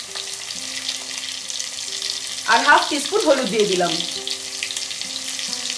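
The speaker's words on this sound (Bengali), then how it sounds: "তেলটা ভালো মতো গরম হয়ে গেলে এর মধ্যে আমি আলুর টুকরোগুলো ভেজে নেব।" Potato pieces fry in hot mustard oil with salt and turmeric over medium heat, giving off a steady, close sizzle. A voice speaks briefly over the sizzle midway through.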